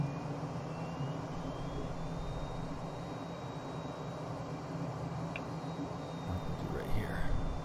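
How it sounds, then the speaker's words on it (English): An F-35B fighter jet's engine drones steadily inside the cockpit while the aircraft hovers, a continuous loud roar with a faint rising whine, and a voice speaks briefly near the end. "Flying the F-35B is not really like any other plane because you can pretty much hover anywhere"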